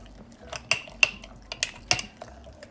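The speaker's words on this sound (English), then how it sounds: "Now you want to mix." A spoon stirring overnight oats with almond milk, several sharp clinks of metal against a bowl at an uneven rhythm, close and clear over a quiet background.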